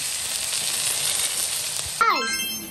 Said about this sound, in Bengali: আস্তে আস্তে ভাজা হতে থাকবে।